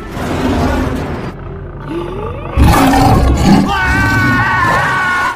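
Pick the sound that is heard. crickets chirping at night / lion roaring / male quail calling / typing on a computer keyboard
lion roaring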